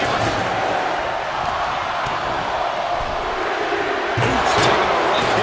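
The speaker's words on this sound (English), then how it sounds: "The crowd is counting it down" A video game arena crowd in WWE 2K25 roars through a women's WarGames match, a dense, steady wall of chanting and cheering that swells slightly toward the end.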